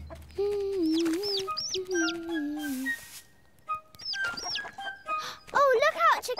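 Cartoon chicken clucks in a children's animated show, a string of bright, squawky, pitch-sliding clucks and calls, loud and close, with a higher flurry of squawks near the end.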